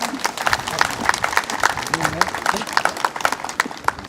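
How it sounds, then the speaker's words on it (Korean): A crowd claps steadily at an outdoor sports day opening ceremony, many hands producing a dense, rapid patter that carries on throughout at a moderate distance. "큰 박수 부탁드립니다"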